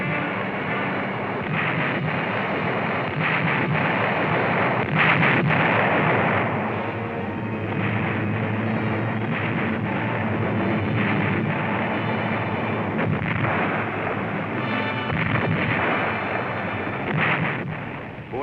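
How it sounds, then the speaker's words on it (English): Wartime artillery fire and explosions rumble as a dense, continuous barrage, with repeated heavy bursts swelling and fading over a steady roaring bed, loud and distant-sounding, with no voices. "The war began in explosions, in chaos, in devastation"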